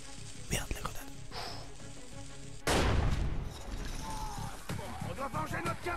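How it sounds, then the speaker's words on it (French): Enemies spraying gunfire wildly in a shooter game set on a Russian metro, scattered shots followed by a sudden loud explosive burst, then more crackling fire under game sounds and faint voices. "ils fusillent tout dans tous les sens"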